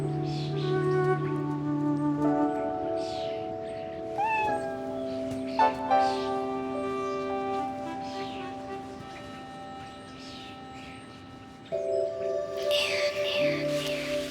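A kitten meows repeatedly, its cries clear and close, alone over a sustained musical background, several plaintive calls spread across the stretch.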